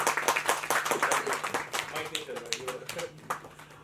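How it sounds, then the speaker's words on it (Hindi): Applause breaks out at a film poster launch event, dense clapping from a crowd that thins into scattered claps, while voices talk over it. "और जोरदार तालियां।"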